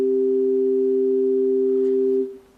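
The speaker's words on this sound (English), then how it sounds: "So a fifth, when it's perfect in tune, it looks like or sounds like this" Two steady pure tones a perfect fifth apart ring together in a smooth, beatless blend, held evenly and loud before fading out at the end.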